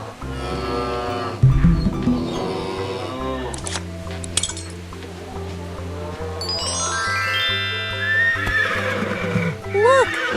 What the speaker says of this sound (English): Look, it's a horse.